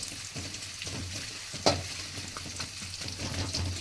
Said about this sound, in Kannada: ಈರುಳ್ಳಿ ಎಲ್ಲ ಸ್ವಲ್ಪ ಫ್ರೈ ಆಗಬೇಕು